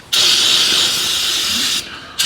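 Aerosol brake cleaner sprays onto a dirty truck engine in a loud, close, steady hiss lasting nearly two seconds, then breaks off briefly before a second burst starts.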